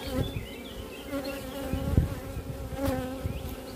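Honeybees buzzing steadily around an open beehive colony, a dense continuous drone of many insects close by, with occasional soft knocks of handling the hive and no talking.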